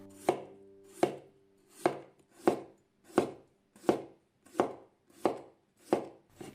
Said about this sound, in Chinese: 接下来把去皮的黄瓜先给它切成薄片